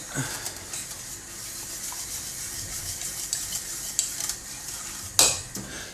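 Milk being stirred into lasagna bolognese sauce in a pan, a soft continuous sizzle with light utensil scrapes and a sharper metallic clink near the end, quiet and close.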